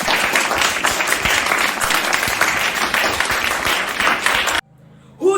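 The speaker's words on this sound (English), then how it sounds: "Let's give him a round of applause." A school morning assembly crowd gives a sustained burst of clapping and applause, dense and steady for several seconds before cutting off abruptly to near silence.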